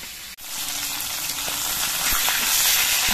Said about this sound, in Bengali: আমি 3টে মাছের মাথার টুকরো একসঙ্গে ভেজে নিচ্ছি।